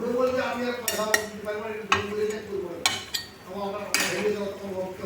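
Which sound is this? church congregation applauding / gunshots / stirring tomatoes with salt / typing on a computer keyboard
stirring tomatoes with salt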